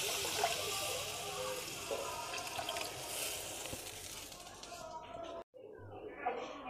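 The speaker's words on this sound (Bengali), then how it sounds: "তাই একটু জলটা বেশি দিচ্ছি" Water is poured into a pan of hilsa fish curry, a close steady gush and splash running under a speaking voice for most of the clip before a brief cut to silence.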